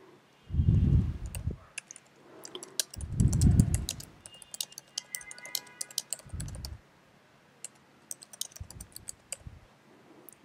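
Clicks of a computer mouse and keyboard at a desk while commenting in a spreadsheet, several bursts of quick, close, crisp tapping separated by short pauses.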